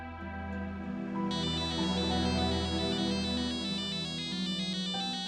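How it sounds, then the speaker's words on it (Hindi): A phone ringtone in a household drama scene rings out alone, a sustained electronic melody with bright repeating tones that grow fuller partway through and keep sounding steadily. "किसका फोन है?"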